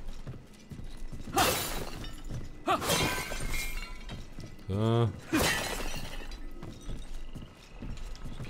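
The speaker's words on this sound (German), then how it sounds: "Wie schön, dass hier alles so klirrt." Glassy clinking and shattering in the video game Remnant: From the Ashes, several sharp crystal-like breaks spread over several seconds, with someone speaking briefly between them.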